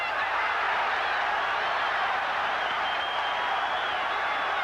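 A boxing crowd roars continuously during the Rocky Lockridge vs Wilfredo Gomez fight, reacting to Gomez's action in the ring. The dense arena noise holds steady and loud throughout, with no clear individual voices standing out.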